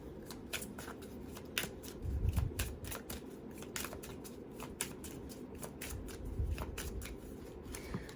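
Tarot cards are shuffled and pulled from decks, close and steady, with rapid riffling flicks and papery slaps repeating throughout, plus a couple of soft low thumps as cards are set down.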